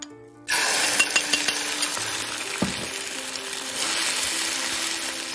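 Scrambled eggs with moringa leaves fry in a hot wok, giving a steady, loud, crackling sizzle that starts abruptly after a brief quiet moment and carries on, with a single clatter partway through.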